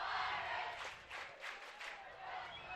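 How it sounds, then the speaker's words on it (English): A high school football crowd at Sheldon versus Jesuit cheers its team from a distance, a soft, steady roar with a few swelling shouts rising and fading over a couple of seconds. "You can hear this crowd starting to get going now, trying to cheer their team on to victory here"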